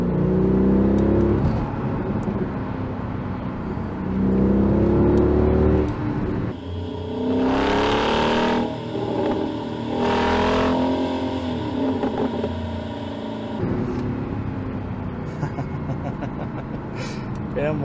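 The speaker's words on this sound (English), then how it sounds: "We are in the fifth gear, down to fourth, into third." A Mercedes-Benz W211 E63 AMG with its M156 engine revs up sharply in a series of loud blips while downshifting from fifth to third on the road, heard from inside the car with someone talking between the bursts.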